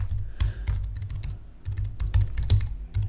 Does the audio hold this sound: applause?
no